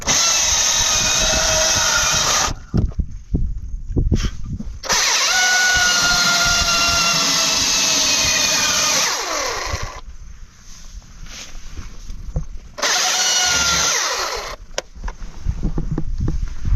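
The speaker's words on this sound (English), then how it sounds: "Chainsaw carving in the Simpson Desert." A chainsaw carving wood in the Simpson Desert roars in several long, loud bursts, cutting out briefly between runs, its buzzing engine pitch wavering as it bites into the wood.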